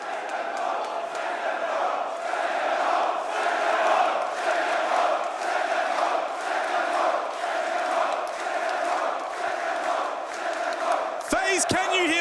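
An arena crowd at a Rainbow Six Siege esports quarterfinal, the BLAST R6 Manchester Major, keeps up a steady, loud roar of chanting throughout, with a brief electronic tone near the end.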